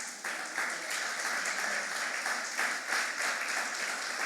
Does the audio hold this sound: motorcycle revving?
no